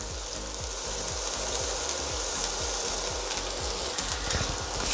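Chopped onion and pepper sauté in a pan over medium heat for a chickpea and prawn stew, giving a steady close hiss of frying with soft irregular popping underneath, no voices.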